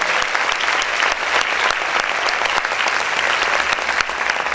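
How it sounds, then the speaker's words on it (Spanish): A church congregation claps loudly for the Lord during a sermon, a dense, close burst of applause that keeps going at full strength for a few seconds. "¿Cuántos pueden aplaudir más fuerte al Señor?"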